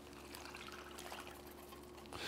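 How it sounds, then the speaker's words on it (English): Apple chipotle brine pours from a cup into a bag of raw chicken thighs, a soft steady liquid trickle that swells into a fuller splash near the end, quiet and close. "Now the brine goes in the bag."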